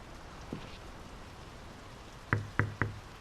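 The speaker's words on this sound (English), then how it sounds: "The rain's picking up." Rain patters steadily outside a house in the video game Draugen, a soft continuous wash, then three sharp knocks land close together on a door near the end.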